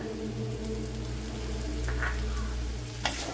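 Chopped tomato sizzles in a hot pan, a soft steady frying hiss with faint crackles and a brief clatter near the end, quiet and close with no talk.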